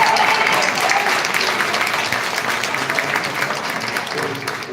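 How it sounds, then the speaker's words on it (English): Attendees at a village hall board meeting give a round of applause, a steady, full clapping sound from a room of people that continues evenly and slowly softens over several seconds. "So I'm going to ask if everybody can give Keith Freeman a round of applause."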